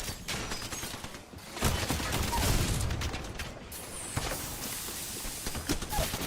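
Grenades explode in a solo ranked online shooter match, with several loud, close blasts and rattling bursts of gunfire in quick succession, and mechanical clatter between them.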